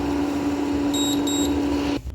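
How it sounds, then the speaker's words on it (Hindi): Two short, high electronic beeps from a kitchen timer being set, close and clear over a steady low hum, with no talking. "चलिए अब हम टाइमर सेट करेंगे।"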